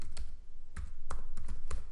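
Keys clack on a computer keyboard in a quick, irregular run of close taps, fairly loud, with no talking.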